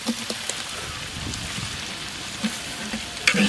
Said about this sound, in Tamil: பச்சை மிளகாய் சேர்க்குறோம்